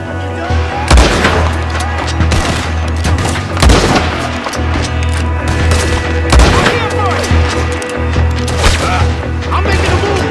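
Gunfire in Red Dead Redemption 2: a loud, dense barrage of shots and booms with sharp cracks and splintering impacts, layered over a steady low rumble and continuing throughout.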